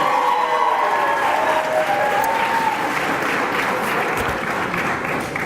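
A high school sports banquet crowd applauds an athletics trainer, a full, sustained round of clapping with faint cheers mixed in, holding steady throughout.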